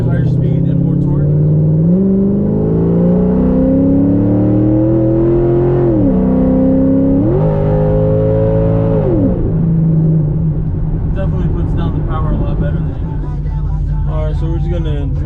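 A Chevrolet C6 Corvette with new leaf spring bolts driving on a street, its engine droning loudly and rising in pitch through several upshifts before settling to a rumbling cruise, a voice talking over it near the end.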